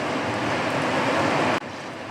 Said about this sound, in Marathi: आता इथे आपलं तेल गरम झालेलं आहे। आता आपण टाकूया याच्यात कबाब